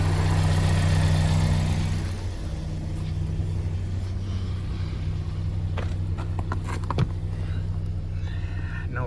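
A 2016 Kia Sorento engine idling during an oil change, a steady low mechanical hum throughout with brief clinks and light noises near the middle.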